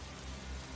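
Steady rain falls on a surface, a continuous soft hiss of many drops at low, even volume with no voices or other sounds over it.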